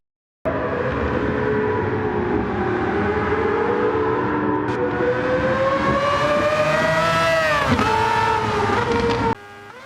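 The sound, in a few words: 787B race car engine in video game Gran Turismo 7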